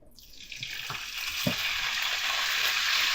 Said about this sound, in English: the chicken to make sizzling sounds. When you put it on, that means that your frying pan is hot enough.